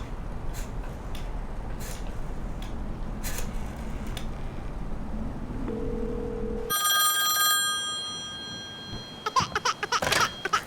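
A telephone rings out loud in a Hindi-dubbed Hollywood action thriller, with a few bright electronic rings cutting in alone after a stretch of dull background rumble.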